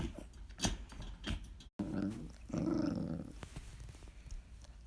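Small dog growling inside its kennel at bedtime, a few low rumbling growls broken by sharp clicks and a brief gap, close and fairly quiet.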